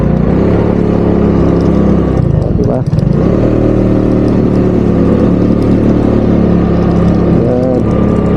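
A vehicle engine with a loud exhaust pipe idles heavily up close at a cemetery, with a sharp rev near the middle and another near the end. A voice talks over it.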